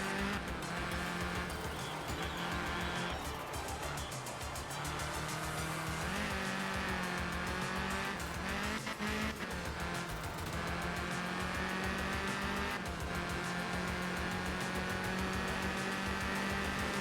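Rally car engine and tyres in a racing video game set on a Kenya stage, a steady loud engine drone with shifting pitch as gears change, plus tyre noise, running continuously without talk.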